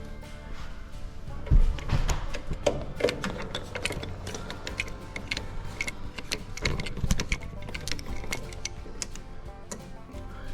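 Small Phillips screws being backed out of a Freedom PS21 pellet stove's inverter power supply, giving soft irregular ticks and clicks of a driver and loose screws against metal, close and fairly quiet.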